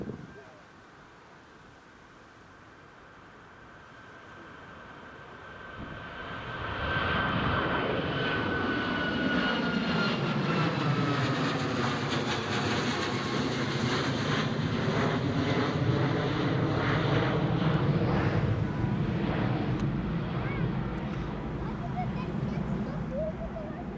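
A Ryanair Boeing 737 MAX jet takes off from Newcastle International Airport, its engines swelling from a distant hum to a loud, sustained roar that sweeps past with a shifting whine, while someone talks intermittently over it.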